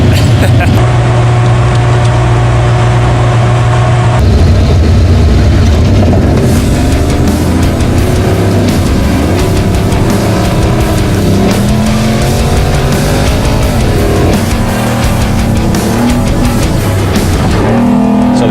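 An Ultra4 off-road race car on a qualifying run at King of the Hammers 2019 idles, then revs hard and roars loudly as it accelerates over rough ground, engine pitch rising and falling.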